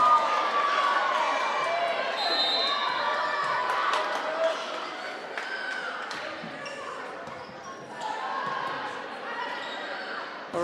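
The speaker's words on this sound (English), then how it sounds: "The crowd goes wild." A crowd in a school gym cheers loudly at a high school volleyball match between Osage and Crestwood. The sustained roar of shouting carries over the scuff and thud of play, with an announcer talking throughout.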